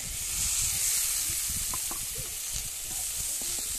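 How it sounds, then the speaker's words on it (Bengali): Fried whole potatoes poured into a hot pan of cooked-down spice paste, a loud continuous sizzle and hiss with scraping and stirring clatter, no talking. "আমার মশলা কষানো হয়ে গেছে, এরপরে ভেজে রাখা কুঁচলি আলু আমি ঢেলে দিচ্ছি"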